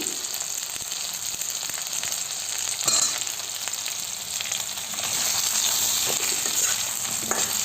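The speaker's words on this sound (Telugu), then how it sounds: "మునక్కాయలు వేసి ఆయిల్లోని ఒక 5 మినిట్స్ వరకు వేయించుకుందామండి." Drumsticks fry in hot oil for an Andhra drumstick and mango sambar, giving a loud, steady sizzling hiss close up throughout, with a brief louder crackle partway through.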